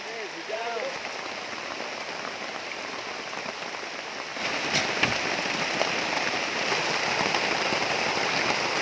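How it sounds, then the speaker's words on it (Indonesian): Heavy rain falling in a forest during a camping trip, a dense continuous patter on surfaces that swells louder midway, with people talking under it. "Aduh, hujan teman-teman."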